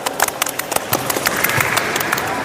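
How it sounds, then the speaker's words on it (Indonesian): Students in a classroom clap, a short burst of scattered, close handclaps that thickens into a steady patter of applause. "Tepuk tangan."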